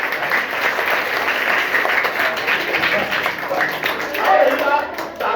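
An audience at a village gathering breaks into sustained clapping, loud and close, holding steady throughout with a brief swell near the end.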